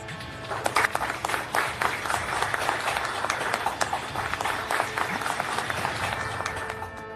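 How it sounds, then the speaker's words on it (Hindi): Audience applause as minister Nitin Gadkari inaugurates the seven-storey NHAI building by pressing a remote, loud sustained clapping from a crowd with sharp individual claps standing out, continuing for several seconds. "तालियां बजी"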